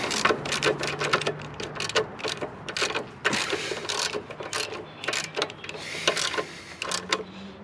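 Ratchet tightening the top bolt of a rear shock on a 2017 Harley-Davidson Sportster 1200 stunt bike, a rapid series of close clicking ratchet strokes in irregular bursts with metallic clatter and no speech.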